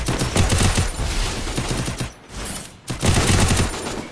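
Rapid automatic gunfire in the mobile battle-royale game Free Fire, loud and dense, sustained bursts with a short lull midway before firing resumes.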